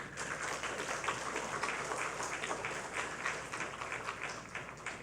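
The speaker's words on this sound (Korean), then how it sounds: "박수 한번 할까요?" Congregation applause at a Sunday church service, honoring a newlywed couple called to the front; dense, steady clapping from many hands fills the room throughout.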